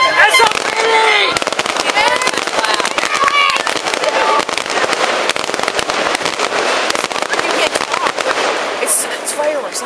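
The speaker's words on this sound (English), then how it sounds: "It's fireworks, not a movie." Fireworks burst loudly and continuously at an outdoor display, a dense barrage of sharp cracks and booms over about ten seconds, with people talking and cheering among the explosions.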